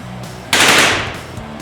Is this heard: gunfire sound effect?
yes